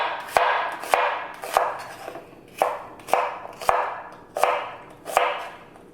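A knife chops through an onion on a cutting board, cutting it into strips, with eight sharp, evenly spaced cuts about one every three-quarters of a second, close and clear, with no voices.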